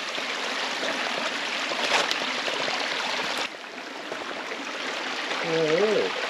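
Creek water flowing over rocks outdoors, a steady close rushing wash, with a brief high whistle-like tone near the end.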